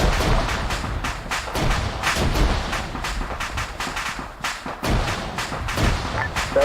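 Mortar fire in the military game Arma 3, a steady series of deep thumping launches and booming impacts with gunfire mixed in, loud and continuous with no talk.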